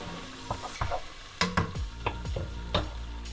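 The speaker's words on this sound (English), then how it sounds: "We're going to chuck the onions into the hot oil." Onions with butter and minced garlic frying in hot oil, a quiet sizzle broken by scrapes and taps of stirring in the pan, close and soft.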